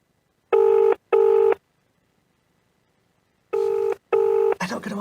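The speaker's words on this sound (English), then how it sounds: "How many more rings shall we give it?" Ringback tone on an outgoing telephone call, two short paired rings, a long silent gap, then another pair, followed by a voice starting to speak.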